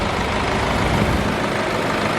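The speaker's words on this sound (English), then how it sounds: "the engine is clattering" A 2-liter twin power turbo diesel engine idles nearby, a dense steady rumble with a constant low clattering drone and no variation in level.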